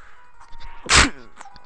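A single sharp, loud human sneeze bursts out near the middle, preceded by quiet breathing and faint game sounds.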